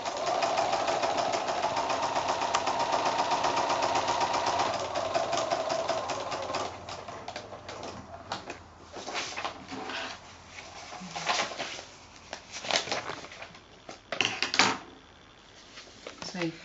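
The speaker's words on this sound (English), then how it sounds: "And I'm going to sew that line now." A sewing machine stitches a straight line on fabric for quilt foundation piecing, whirring steadily for about six seconds, then stops and is followed by scattered clicks and handling noises.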